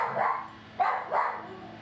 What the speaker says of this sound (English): No barking. No barking. Come on. Quiet.